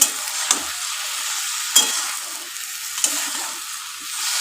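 Onions sizzle in a pan for a Bengali fish kalia, a steady frying hiss with a few sharp scrape-and-clatter strokes of stirring, close and fairly loud, no voices.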